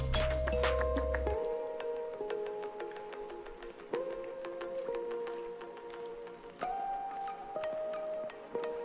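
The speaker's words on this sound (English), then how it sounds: "I firmly rang the doorbell." A doorbell chimes with a clear electronic tone, repeating several times at intervals, each ring sustained and ringing out in a quiet space.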